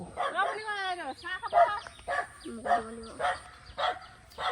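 A person speaks in a playful, sing-song voice, imitating a dog's barking with several short woofs mixed into the talk.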